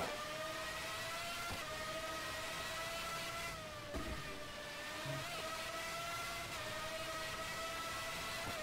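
A 1995-season Formula 1 car engine from the F1 Challenge racing game drones with a high, steady whine and layered harmonics, shifting slightly in pitch through gear changes, loud and continuous without speech.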